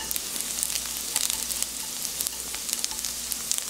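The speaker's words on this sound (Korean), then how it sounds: "이렇게 지글지글 거품이 올라오죠" Anchovies stir-frying in oil in a pan, giving a steady dense sizzle with crackling pops throughout, close and fairly loud, no talk.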